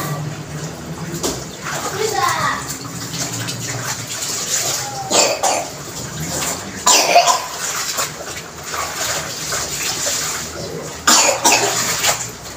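A young child's rough, cracking cough in bursts at home, heard among a child's chatter, adult talk and some water splashing in the background.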